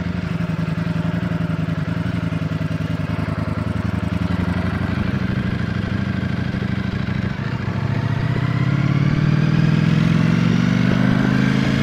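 A Ducati Streetfighter motorcycle engine runs loud and close, a steady throbbing rumble that rises in pitch near the end as the bike rides off.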